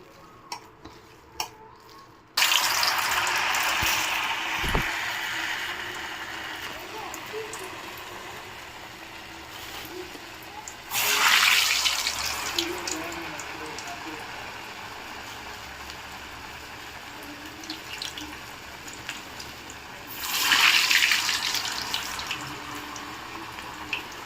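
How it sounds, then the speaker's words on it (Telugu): Garelu, lentil vadas, sizzle in hot oil on a stove, a steady soft crackling hiss that swells louder each time fresh batter drops in, with occasional utensil taps. "ఆయిల్ కూడా వేడి అయిపోయింది ఇప్పుడు మనం గారెలు వేసుకుందాము"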